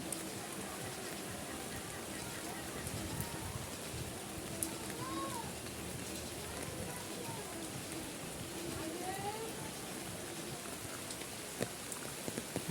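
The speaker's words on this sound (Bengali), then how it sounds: "আল্লাহর বৃষ্টি অকুল বৃষ্টি" Steady monsoon rain falls in a continuous, faint hiss with scattered drips, while a voice talks quietly over it.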